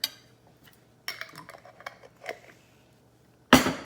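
A spoon scrapes and clinks as jalapenos are scooped into a crockpot, making a handful of light close taps and clatters, then ending on one louder clunk.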